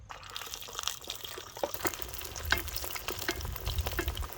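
Boiled pork leg deep frying in hot oil for a second time, a steady close crackling sizzle with bursts of popping and spattering, no talking.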